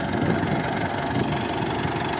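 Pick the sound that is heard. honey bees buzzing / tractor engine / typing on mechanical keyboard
tractor engine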